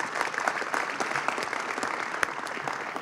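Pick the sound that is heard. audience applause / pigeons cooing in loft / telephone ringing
audience applause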